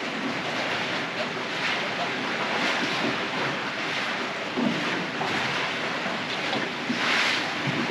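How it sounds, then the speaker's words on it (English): Wind and waves wash steadily around a Leopard 45 sailing catamaran, a broad continuous rush with microphone buffeting and occasional louder surges, close and unbroken throughout. "the wind is blowing us now the wrong direction"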